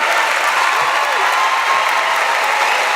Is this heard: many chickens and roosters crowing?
no